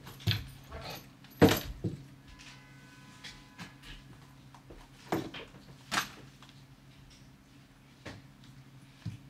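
Keys jangling in a quiet home while packing to move, with several short metallic rattling bursts spaced a few seconds apart and one louder shake early on.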